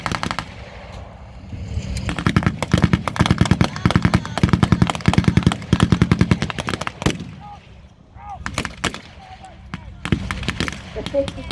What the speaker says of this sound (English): The 50 cal fires again and again, trying to stop the retreat.